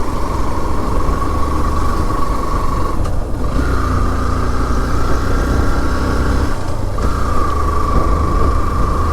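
A KTM motorcycle engine runs steadily before an uphill off-road climb toward Helambu, a loud close drone with a couple of brief dips in the hum.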